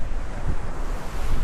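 Sea waves wash onto a clean beach at Malvan in a continuous surging roar, heavily mixed with wind buffeting the microphone.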